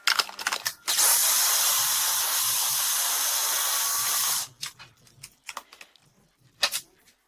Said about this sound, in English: Added all to the kitchen process.